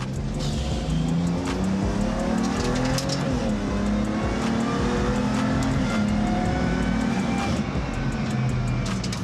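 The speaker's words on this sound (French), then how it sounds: "Eh mais c'est caisse de course ton truc là." Race car lapping a track, its engine droning loud and steady with shifting revs, occasional tire squeal and gear changes over about nine seconds, no voices.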